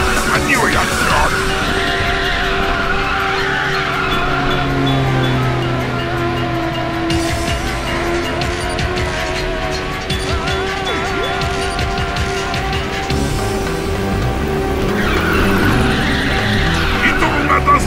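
Ridge Racer 6 video game race at Sunset Heights: a loud, steady engine roar with long tire squeal through a drift, a continuous high-pitched screech over the engine and background game music.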